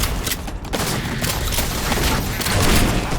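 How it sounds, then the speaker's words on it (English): Shotgun fire from the M45D tactical shotgun in a Halo video game: dense booming blasts layered with battle noise and impacts, loud and continuous over the whole short burst. "The M45D tactical shotgun is one of the meanest models I've ever seen."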